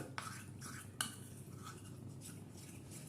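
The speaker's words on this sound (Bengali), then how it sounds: "এই কর্নফ্লাওয়ারটা একটু জলে গুলে নেব" A spoon stirs cornflour into water in a bowl, making soft swishing with a few sharp metallic clinks against the side. The clinks are quiet and close, and no one speaks.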